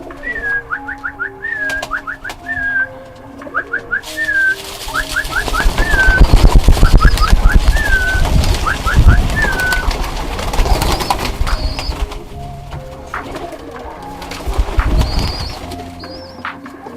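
Birmingham Roller pigeons coo in repeated soft, rolling calls close by, with bursts of wing flapping and shuffling noise in the middle.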